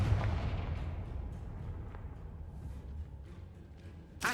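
Confringo blasting spell from a Harry Potter video game: a loud, rumbling explosion that starts strong and slowly fades, ending with a sharp burst at the very end.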